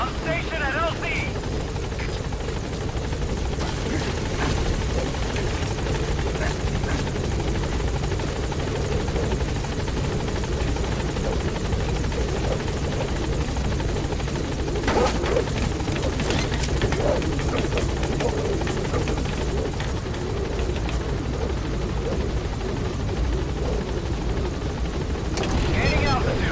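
The Pequod helicopter arriving at a landing zone in the video game Metal Gear Solid 5, a loud, continuous rotor thrum and turbine drone lasting throughout, with radio-style dialogue spoken over it.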